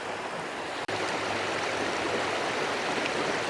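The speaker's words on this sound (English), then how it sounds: "Now here's what the waterfalls are looking like." Steady, dense rush of falling water, loud and unbroken, with one brief dropout near the start.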